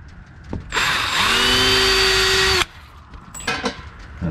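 A power drill fitted with a small bit pre-drills pilot holes in wood while mounting a doorbell, whirring loudly and steadily for about two seconds after a faint start, then stopping, followed by brief handling clicks.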